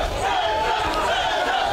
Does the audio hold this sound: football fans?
yes